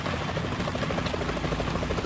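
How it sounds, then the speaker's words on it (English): Helicopter rotor chopping steadily at moderate distance in the video game Metal Gear Solid 2: Sons of Liberty, a continuous rhythmic thrum with no speech. "Is that a chopper I just heard?"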